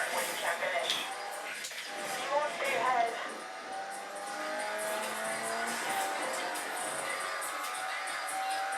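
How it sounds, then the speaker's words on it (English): Arcade-style car racing in a Need for Speed game, with engine tones, tire squeals and crowd noise under music, then a steady, busy roar of cars over the second half, with voices heard throughout. "Here's a new Need for Speed game that doesn't take itself too seriously."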